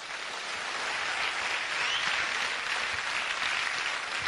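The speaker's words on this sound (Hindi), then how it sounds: "और इसके लिए ताली मारो।" Seminar audience at a motivational training session claps steadily together, an even wash of applause sustained throughout with no talking.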